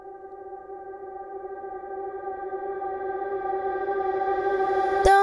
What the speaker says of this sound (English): I'll show you what it sounds like if you would have used reverb instead of delay